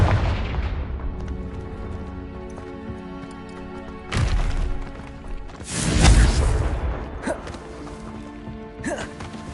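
Explosive blasts from a Confringo spell in a Harry Potter video game, with heavy booming thuds at intervals over a musical background and a few smaller pops between them.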